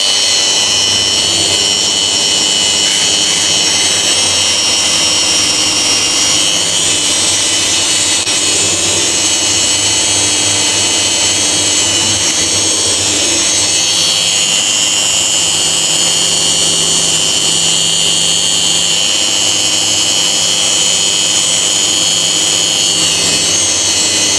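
A power tool fitted with a Tyrolit SCM surface-conditioning disc works over a weld seam to give a uniform finish. A loud, continuous, high grinding whir runs unbroken throughout, close up, with small changes in pressure and no speech.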